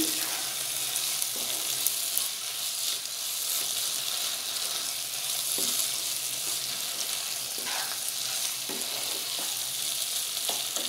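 Crushed meat fries with spices in a pan under a loud, steady hiss of sizzling oil, broken by occasional soft scrapes of stirring, close up.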